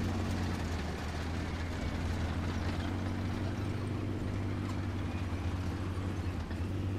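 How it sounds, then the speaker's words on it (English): A steady, heavy tank engine rumble in War Thunder drones low and continuously as the tank idles and rolls up close, with no voices. "You can hear somebody pulling up behind me"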